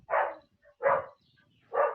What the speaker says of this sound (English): Oh, the dog is barking. Can you hear the dog barking?